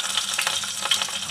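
Green chilli sizzling in hot oil in a pan while poha is being made, a steady bright frying hiss with small crackling pops throughout, fairly close and without talk.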